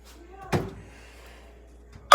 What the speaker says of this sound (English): And then you're gonna close the door.